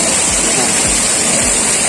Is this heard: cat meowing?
no